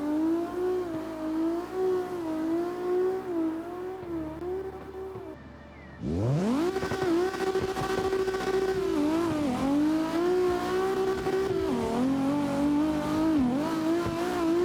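A drift car at Ebisu Circuit, its engine droning steadily, then a sudden loud surge of revving and tire noise as it scrapes along the outside concrete wall, staying loud and sustained afterward.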